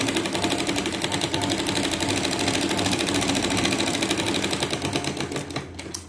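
A sewing machine stitches the lining of a katori blouse in steady, fast, continuous mechanical clatter, close and loud, easing off near the end.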